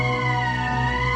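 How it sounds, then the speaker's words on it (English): A steady electronic emergency siren from the video game Valkyria Chronicles, a sustained loud tonal drone holding one pitch throughout this short moment with no talk. "That's the emergency siren."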